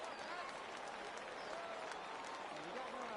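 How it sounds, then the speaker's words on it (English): Baseball stadium crowd in MLB 18 cheering as it rises for a full count, a dense steady roar of voices and clapping that holds at an even level throughout. "Crowd gets up for the 3-2."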